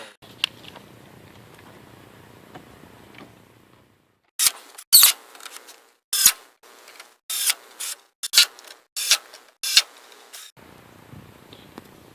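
Power drill cutting a countersink into a thin wooden shelf piece, heard as a string of sharp, loud bursts of whirring that start and stop in an uneven rhythm, following a quiet stretch of faint shop noise.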